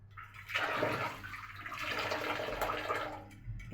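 Water and oil poured into a pan on a gas stove while cooking a spiced dish, a close splashing, sizzling rush that starts abruptly and runs steadily for a few seconds.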